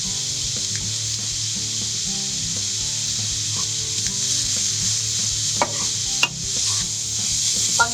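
Salted onion cooks gently in a frying pan with a steady close sizzle, broken by a few scrapes and taps from stirring. No one speaks.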